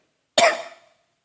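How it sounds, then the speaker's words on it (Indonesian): One sharp, close cough, abrupt and loud, fading quickly into silence. "Batuk nih ya."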